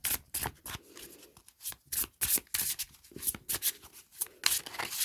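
Repeated crisp riffles of oracle cards being shuffled close up, several quick bursts separated by short pauses, with no talking.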